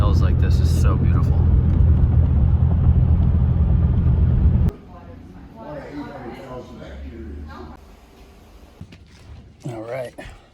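Car engine and road rumble from a vehicle driving through farmland and rolling hills, loud and steady for the first few seconds, then cut off, leaving quieter background with people talking.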